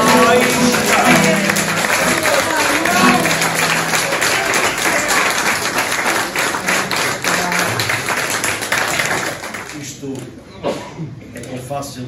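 Loud, sustained applause from a live audience after a fado performance, dense clapping holding steady for about ten seconds before thinning out near the end.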